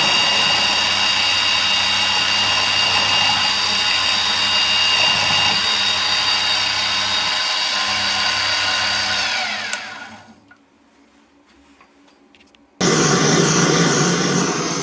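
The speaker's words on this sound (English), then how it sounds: "Using the large centre drill to make that hole gives me a free chamfer on this side" A large centre drill cuts a chamfer into a hole in a metal part. The machine holds a steady humming whine, then spins down into near silence and abruptly starts up again at full speed.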